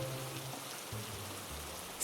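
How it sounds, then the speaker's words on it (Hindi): Heavy rain pours down steadily as a cartoon story sound effect, a dense continuous patter without pauses, no voices present. "तभी जोरों से बारिश होने लगी।"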